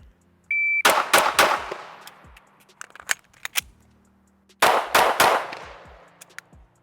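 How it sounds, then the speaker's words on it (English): A compact carry pistol, a P365 X-Macro or an M&P Carry Comp, fires outdoors at close range: a start beep, then two quick groups of sharp shots with a brief reload pause between them. "I'm gonna shoot 3 rounds from retention, do a reload, and then I'll shoot 3 rounds"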